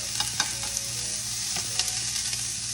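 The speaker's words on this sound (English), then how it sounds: "I'm just gonna add a few to the pan here. It doesn't take shrimp very long to cook." White shrimp sizzle steadily in avocado oil in a frying pan, a close, continuous hiss with small pops and crackles throughout and no talking.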